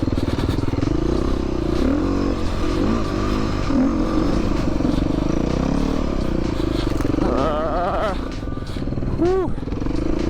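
A dirt bike on an endurance training ride before a race: the engine drones loud and close throughout, its pitch wavering as the throttle shifts, with a couple of sharp revs near the end.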